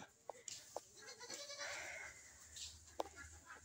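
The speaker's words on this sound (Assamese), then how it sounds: "এয়া আমাৰ ছাগলী পোৱালি, এয়া ছাগলী পোৱালিটো এয়া।" A young goat kid bleats close by in a rural farmyard, giving a few short, separate calls over quiet outdoor background.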